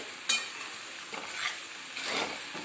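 Puffed rice being sautéed in a pan, with a soft continuous sizzle and occasional scraping stirs, including one sharp clink near the start; close and fairly quiet, with no voices.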